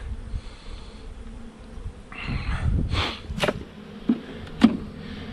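Honeybees in an opened, weakened fall hive infested with hive beetles give a soft droning buzz that swells midway, along with a few sharp knocks and handling noises nearby and no talking.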